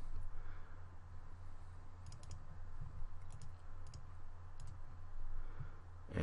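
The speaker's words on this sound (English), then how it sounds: "All you need to do is right mouse click on the location" Quiet, sharp clicks from a computer mouse, arriving in small clusters over a steady low hum, with no voices.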